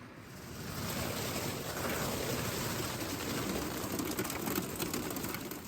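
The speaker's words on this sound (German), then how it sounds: "Bis auf das Regentropfen plätschern." Raindrops patter in a soft, continuous hiss on a quiet night in a van, steady throughout, with a brief louder knock at the very end.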